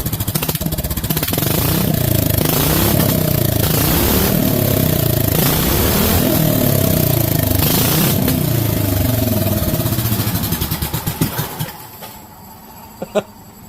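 A motorcycle engine fitted with a new carburetor runs steadily at a loud, close idle with uneven clattering and slight revving, then cuts out near the end, leaving a few faint knocks.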